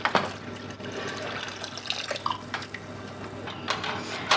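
Water is poured out of a canning pot in a home kitchen while preparing peaches, a brief splashing pour with trickling and dripping that continues at close range, with no talk.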